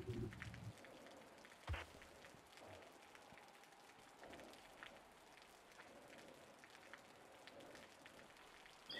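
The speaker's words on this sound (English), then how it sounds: "It's interesting that I can hear the rain sound effects underwater." Steady rain from the Subnautica video game patters softly and evenly throughout, a faint continuous hiss of drops with a few brief clicks and no voices.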